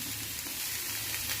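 Oil hitting a frying mixture of onion and chili in a pan gives a dense, steady, close sizzle with a constant hiss and no talking.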